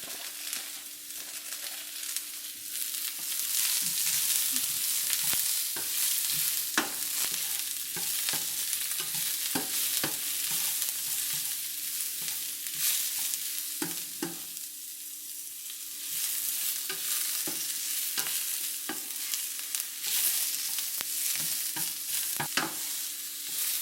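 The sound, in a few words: carrot stir-frying for fish with chili bean sauce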